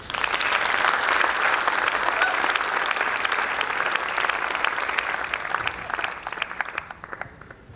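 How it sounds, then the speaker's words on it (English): Loud, sustained applause from a presentation audience, many hands clapping steadily for several seconds before tapering slightly at the end. "Please give Florizel a nice applause."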